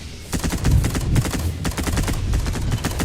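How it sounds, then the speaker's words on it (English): Walking fortress bombardment in the strategy game Zero Space: rapid, loud, close bursts of heavy gunfire in dense repeated volleys, continuing without pause. "Commencing bombardment."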